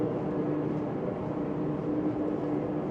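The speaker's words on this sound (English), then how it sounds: "I'm just gonna bow thrust to starboard." Bow thruster on a Delta 33 Open boat pushing the bow to starboard, giving a steady, dense mechanical whir and churning rumble that holds evenly for the full stretch with no talk over it.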